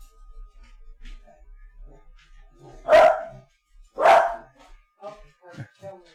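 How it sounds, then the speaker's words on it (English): A beagle barks at clouds outdoors: two loud, close barks about a second apart, followed by a few softer yips and whines, with faint background noise before. "Now this is Beagle yells at cloud, barks at clouds."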